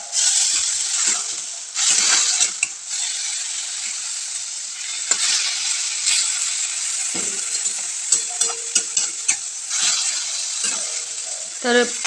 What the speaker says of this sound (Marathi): जे आपण चिरून घेतलेली पालक आहे ती ॲड करायची आणि ती तेलामध्ये छान अशी तळून घ्यायची